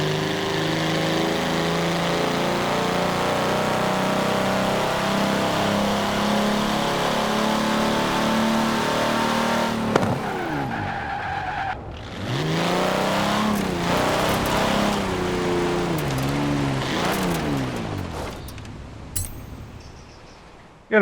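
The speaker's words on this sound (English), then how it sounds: "Got a nice sounding engine." A 1952 Hudson Hornet's engine in Forza Horizon 4 drones steadily, then drops off and revs back up in rising and falling sweeps, loud and close with no talk.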